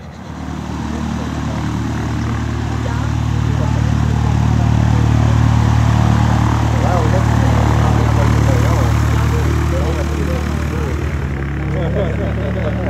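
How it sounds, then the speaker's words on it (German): A small propeller airplane sits with its engine running as it gets ready for flight, a steady, loud drone that holds throughout and swells slightly in the middle. "Das kleine Flugzeug bereitet sich auf den Flug vor."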